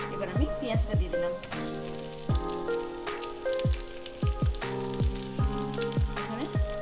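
Chopped onion fries in hot oil with garlic, giving an uneven, spattering sizzle with crackling pops close by, no voices heard.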